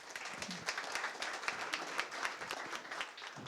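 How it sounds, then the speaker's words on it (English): A meetup audience claps steadily to welcome a speaker, a moderately distant, sustained round of applause filling the room throughout without any talking over it. "please give him a round of applause"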